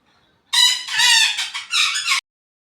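A rooster crows loudly and close by in one long drawn-out call lasting under two seconds, with a short dip partway through, alone against a quiet background in a home kitchen setting.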